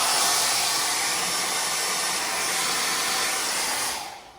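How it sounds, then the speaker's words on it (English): A handheld hairdryer blows hot air onto a Jeep Gladiator part to soften the glue, making a steady, loud airy whoosh close by that cuts off near the end. "I am going to heat this up a little bit with a hairdryer just to make it as soft as possible"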